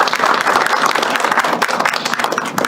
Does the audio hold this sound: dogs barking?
no